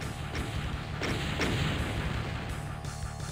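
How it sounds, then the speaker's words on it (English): Rocket launcher shot exploding in the Doom 2 voxel mod Voxel Doom 2, heard as a dense, noisy burst mixed into constant game noise and repeated thuds, with no distinct single crack standing out. "And shoot the rocket."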